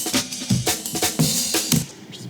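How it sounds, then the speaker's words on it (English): A breakbeat re-pitched by transposing regions in Logic plays as a drum pattern with punchy kicks and bright snare and hat hits in a steady, shifting rhythm, alone without talk. "you can drag the pitch of certain regions up and down,"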